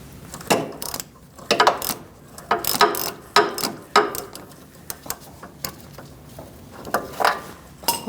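A front sway bar link nut is worked off a 2008–2014 Mercedes-Benz C300 while the stud is held with locking pliers, producing irregular bursts of close ratchet clicking, loud and intermittent, with no talking.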